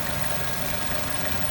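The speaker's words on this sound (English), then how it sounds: "The engine just runs horribly because of that vacuum leak." 2015 Chevrolet Corvette Stingray engine idling roughly with a vacuum leak, a steady broadband mechanical rumble and hiss with uneven low throb, continuous and close, no talking.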